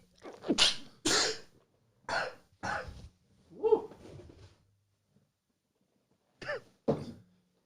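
A few sharp, explosive sneezes burst out close by in quick succession, separated by quiet gaps, with a couple more stifled ones after a pause.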